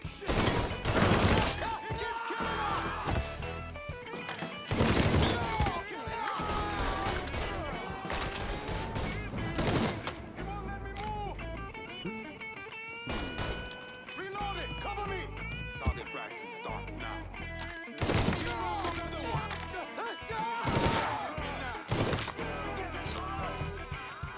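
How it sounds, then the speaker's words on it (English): Gunfire in Mafia 3 striking a wall, with loud bursts and impacts recurring through the stretch over busy game sound while people talk. "He's shooting at the wall."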